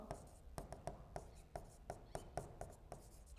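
Chalk strokes on a classroom board during a Hindi-medium class 10 maths lesson on real numbers: about ten short, sharp taps and scrapes in a steady, fairly even rhythm, close and moderately quiet.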